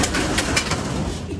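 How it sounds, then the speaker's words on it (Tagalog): Pigeons cooing inside a pigeon loft, a dense close chorus of soft, steady calls filling the short stretch with no pause. "nandito na yung mga ibon"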